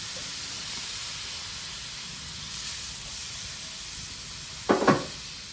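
Rougail simmering in a pot after water is added, a steady soft hiss of steam and bubbling throughout, with a brief louder clatter of a utensil near the end.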